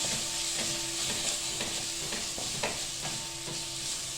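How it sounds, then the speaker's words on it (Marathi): Tomatoes sautéing in a hot spiced tempering until soft, a steady close sizzle broken by regular scrapes and knocks of a spoon stirring the pan, with no voices. "टोमॅटो सुद्धा आपल्याला मऊ होईपर्यंत परतून घ्यायचं आहे"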